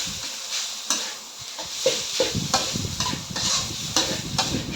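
Minced pork stir-frying in a hot pan for a shiitake mushroom dish, a steady close sizzle broken by repeated scrapes and stirring knocks of the spatula against the pan, with no voices.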